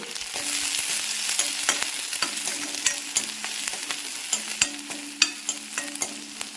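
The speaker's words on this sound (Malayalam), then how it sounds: "പച്ചമുളക് ഇട്ട് കൊടുത്ത് കറിവേപ്പില ഇട്ട് കൊടുത്തു. വറ്റൽമുളക് ഇട്ട് കൊടുത്തു." Green chillies, curry leaves and dried red chillies sizzle in hot oil in a pan while making pachadi, a loud, steady crackle close by, broken by repeated sharp scrapes and taps of a stirring spoon.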